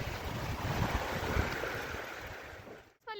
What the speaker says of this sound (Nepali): कति पानी परेको इन्द्र भगवान